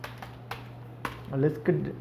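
A few sharp, isolated keystrokes on a computer keyboard while entering a disk command in a Windows command window, spaced clicks followed by a brief murmur of voice.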